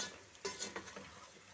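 A spoon stirs chicken stew with tomatoes and salt in a pot: a few quiet scraping, clinking strokes over a faint simmering sizzle, soft and close, with no voices.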